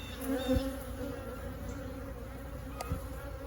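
Agitated honeybees swarm around an opened single-brood-chamber hive, their steady, close buzzing filling the air with individual bees droning past near the listener.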